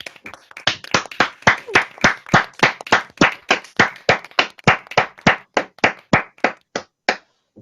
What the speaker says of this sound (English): I now warmly invite you to unmute yourselves and clap and cheer for each other.